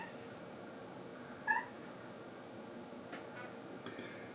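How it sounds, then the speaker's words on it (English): A single short meow from a cat, close and clear against a quiet indoor background, followed by faint small rustles. "My cat wants to play fetch."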